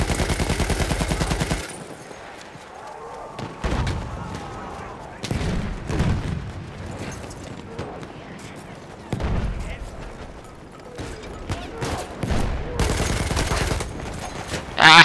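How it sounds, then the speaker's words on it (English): Bursts of a 200-round light machine gun on the Verdun battlefield in Battlefield 1, rattling in several rapid volleys between quieter gaps of distant combat, loud and close. A voice speaks briefly. "light machine gun."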